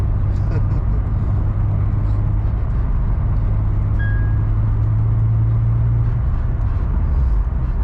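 A car with a six-speed manual gearbox on a test drive, with a loud, steady low engine drone and road rumble from inside the cabin and voices faintly mixed in.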